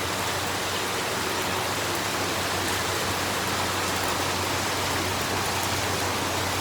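Heavy rain pours down in a steady, dense hiss around a flooded Punjabi home, continuous and fairly loud with no voices over it.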